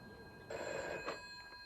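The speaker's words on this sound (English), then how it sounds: "Mrs. Philomena Hall's phone rang one breakfast time." A telephone bell rings once in a short burst, fairly soft, with a faint ringing tail and quiet background.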